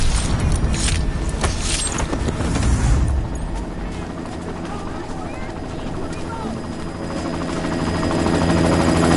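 A helicopter in the video game Deus Ex: Mankind Divided, a loud steady rotor and engine roar filling the scene, with heavier thumping early on before it settles into a continuous drone.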